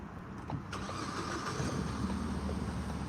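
A car engine runs steadily after starting, a continuous low rumble with mechanical noise, heard up close with no talking.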